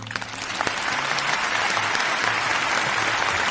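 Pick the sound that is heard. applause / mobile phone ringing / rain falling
applause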